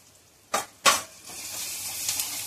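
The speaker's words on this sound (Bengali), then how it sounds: "পেঁয়াজটা লাল লাল করে ভেজে নেবো আমি।" Onions frying in a pan with turmeric powder and salt, a steady sizzle broken by two sharp stirring scrapes near the start, continuing alone without talk.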